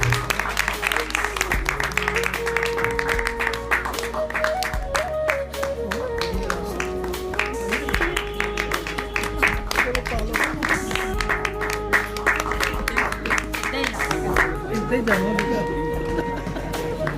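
Audience clapping at a prize distribution ceremony, steady sustained applause running throughout with music and a speaking voice over it.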